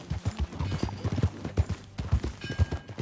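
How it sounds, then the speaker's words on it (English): Horse hooves clip-clop steadily in Red Dead Redemption 2, a close, rhythmic run of hoofbeats with uneven accents carrying through the whole stretch. "That new horse?"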